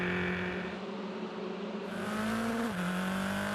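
Onboard at Sepang, a race car engine screams at high revs, its steady whine climbing then dropping briefly at a gear change before pulling on, loud and close throughout.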